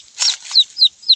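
A small chicken set as bait inside an animal trap clucks and chirps in a few short, close bursts, several quick calls spaced about a quarter second apart with no talking.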